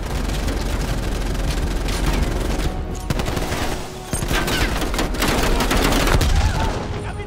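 Dense rapid gunfire from the video game Call of Duty: Black Ops Cold War, loud sustained bursts of automatic weapons with booming shots, a brief lull near the middle before the firing resumes just as heavy.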